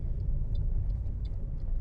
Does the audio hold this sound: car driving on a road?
yes